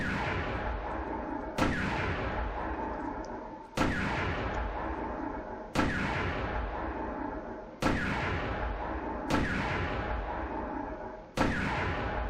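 Artillery gun firing in WW2 Online, six heavy booming shots at roughly two-second intervals, each with a sharp crack and a long rumbling decay, loud and close with no talk.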